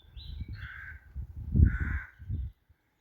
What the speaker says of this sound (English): Can hear the crows.